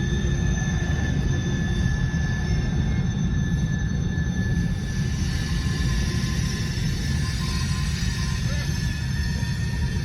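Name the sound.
CN SD70M-2 locomotive leading slow mixed freight train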